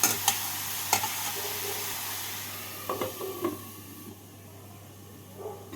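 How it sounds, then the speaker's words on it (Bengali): Radish greens with a little turmeric are stirred in a pan over a medium gas flame, giving a soft, steady sizzle with a few scattered clinks and scrapes of the spatula, close and fairly quiet. "শাকটাকে নাড়াচাড়া করে নিয়ে গ্যাস থেকে মিডিয়াম ফ্লেমে রেখে দু মিনিটের জন্য ঢাকা দিয়ে দেবো"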